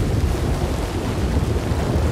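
Heavy rain pours in a stormy scene from the video game Red Dead Redemption 2, a dense, steady broadband wash with low rumbling that suggests thunder, continuous and loud throughout with no talking.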